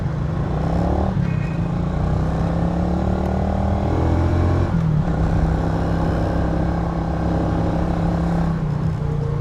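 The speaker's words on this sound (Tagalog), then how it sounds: "Tsaka tong motor natin," A motorcycle ridden on an endurance ride, its engine droning steadily and loud up close with shifting rumble and rev changes, road and wind noise throughout, no talking.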